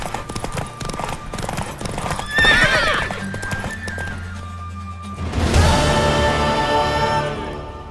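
A horse in The Witcher 3 gallops with steady hoofbeats and lets out loud whinnying neighs, full and close, with game ambience underneath.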